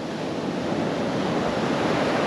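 Steady roar of ocean surf breaking along a coast lined with cliffs on a rainy day, a continuous broadband wash with some wind buffeting the microphone, no voices.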